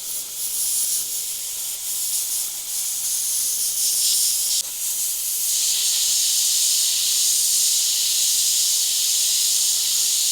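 An airbrush sprays paint in a steady, close, loud hiss that continues almost unbroken, dipping briefly once before resuming, with no voices.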